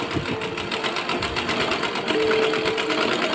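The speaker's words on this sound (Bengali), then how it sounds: "এই দাগ অনুযায়ী আমি এবার সেলাই করে নিচ্ছি" A sewing machine stitches a sleeve seam on a baby frock, running steadily with a rapid, even mechanical whirr and needle clatter throughout, close and fairly loud, without pause.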